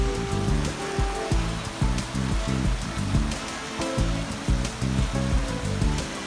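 Hot spring water flowing out of a small tunnel at a sulphurous thermal source at Baslay Hot Springs, a continuous close rushing splash with a rhythmic low churning pulse underneath.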